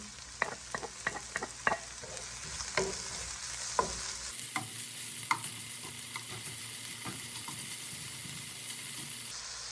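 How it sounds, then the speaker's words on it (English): Spinach and ham sauté in a pan with a soft, steady sizzle, punctuated early on by several sharp clinks and stirring taps, then settling into a quieter, even frying hiss. "And now let them saute for a bit"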